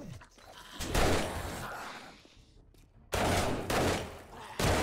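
Gunshots in the game 7 Days to Die: a few loud, sharp bangs, one near the start and a cluster after a quiet gap, with short crackling bursts.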